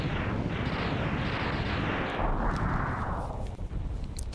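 Rumbling game explosions roll out as a boss is defeated by a homing torpedo in Mega Man X, a loud continuous barrage that gradually thins and fades toward the end.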